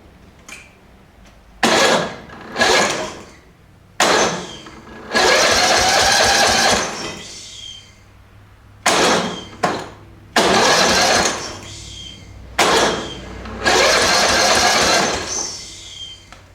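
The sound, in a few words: Murray overhead cam engine being hard cranked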